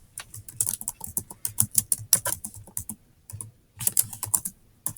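Quick bursts of typing on a computer keyboard, clattering keystrokes close up in two runs separated by a short pause, with no one speaking.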